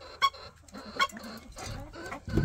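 Backyard chickens clucking softly in a garden, with a few short, scattered clucks and low murmurs at moderate distance and a brief louder rustle at the end.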